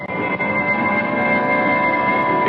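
Aboard a moving passenger train, a steady, loud rumble of travel runs continuously and evenly throughout, with faint tonal hums layered over it.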